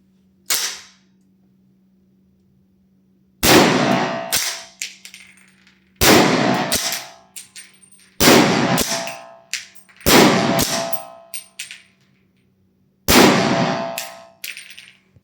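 Five loud rifle shots from a CR58 chambered in .300 AAC, fired without a suppressor, each a sharp crack with a ringing tail, spaced a few seconds apart over a low steady hum.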